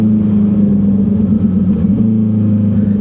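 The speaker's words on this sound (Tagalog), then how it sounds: "pag nagda-downshift tayo, ganun ang tunog niya" Close, steady drone of a 2025 Honda CB650R inline-four motorcycle engine with E-Clutch while downshifting, a loud continuous mid-low hum with slight pitch wobble, no talking.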